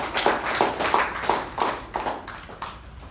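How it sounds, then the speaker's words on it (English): A small Toastmasters club meeting audience claps to welcome a speaker, a handful of distinct close claps in an uneven rhythm rather than a full ovation, fading toward the end. "Please welcome Toastmaster Gaurav with a big round of applause."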